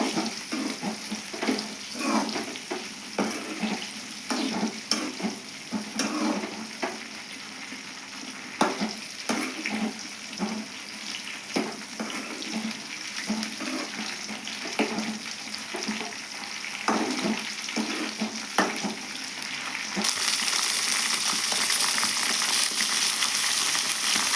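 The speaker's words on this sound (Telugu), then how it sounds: "ఇవి కొంచెం దూరంగా వేయించుకుందామండి బాగా" Green chilies fry in hot oil for a ridge gourd chutney, with a continuous close sizzle and crackle. Intermittent stirring scrapes run through it, and the sizzle grows louder and denser toward the end.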